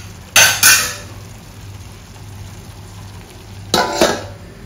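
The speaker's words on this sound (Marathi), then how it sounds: "झाकण देऊन ठेवूया" A lid set down twice on a pan of simmering pomfret fish curry, two quick metallic clanks near the start and another pair of clanks a few seconds later, over a faint low hum.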